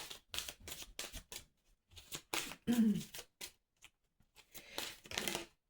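Playing cards are shuffled close by in brief bursts of riffling and flicking, separated by short quiet gaps, with no talk.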